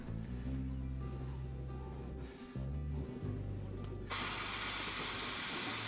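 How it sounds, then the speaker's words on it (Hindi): Steady loud hiss of steam from a pressure cooker boiling potatoes on a trek camp in Uttarakhand, bursting in abruptly and dominating after a stretch of low rumbling background. "और ये वो मेरा प्रेशर कुकर है, जिसमें मैं आलू बॉयल करने का काम करता हूँ।"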